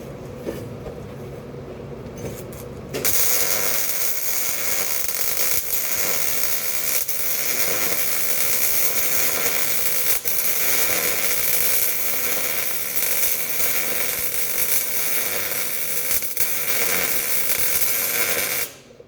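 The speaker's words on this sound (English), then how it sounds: "So now I'm going to be welding the T-joint" MIG welding on a steel T-joint, with a steady, loud, crackling arc that starts abruptly after a few seconds of quieter shop noise and holds continuously until cutting off near the end.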